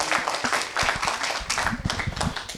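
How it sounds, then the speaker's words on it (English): Audience at a community event clapping for Chris Curb, a short burst of scattered, uneven hand claps close by, no speech over it. "Y'all give him a round of applause."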